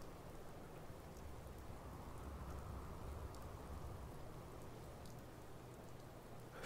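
Gentle rain falls in the video game Fallout 4, a faint, steady wash of drops with a low rumble beneath and no voices.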